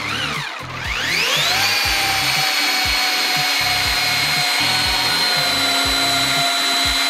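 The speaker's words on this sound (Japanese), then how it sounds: "シングルアクションも先ほどと同じウールバフと 3M のハードワンを使って磨いていきます。" A single-action car polisher fitted with a wool buff spins up with a rising whine, then runs steadily while cutting compound into chipped, damaged paint, giving a loud continuous tone with rhythmic rubbing thumps from the pad.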